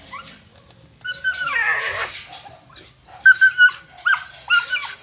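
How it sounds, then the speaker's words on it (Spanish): A dog barks and whimpers in short, loud bursts close by, after a longer whining, yelping stretch; it sounds eager, as if wanting to get out through an open door. "¿De qué lugar será ese perro?"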